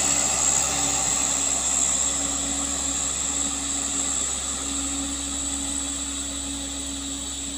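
A heavily loaded diesel truck grinds up a steep mountain incline, its engine a steady, continuous drone with a faint high whine, holding an even level throughout with no voices.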